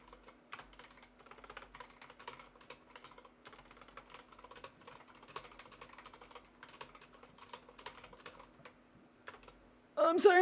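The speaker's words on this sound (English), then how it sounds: "my keyboard is so loud" Rapid typing on a loud computer keyboard, dense continuous clicking close to the microphone, with a brief louder sound at the very end.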